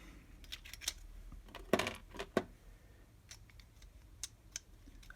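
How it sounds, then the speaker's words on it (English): Scissors snip a small plastic part from an N gauge Graham Farish Intercity 225 model train, a few quiet, sharp clicks and cuts clustered close together with brief pauses, no talking. "I might need to trim off a bit more."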